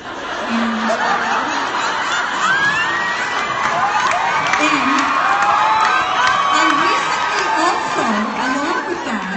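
Audience at a fan convention panel screaming, cheering and laughing, a dense, loud crowd roar with whoops and shrieks throughout, voices mixed in.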